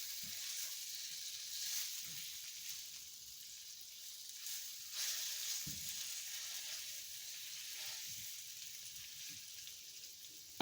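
Beef steak pieces for a broccoli stir fry sear in a hot frying pan with a steady, hissing sizzle, broken by a few soft thumps as the meat is tossed around, close and continuous with no voices.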